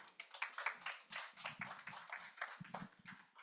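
A church congregation claps in warm applause at a prayer meeting, a dense, steady patter of many hands lasting throughout at moderate distance, with no talk over it.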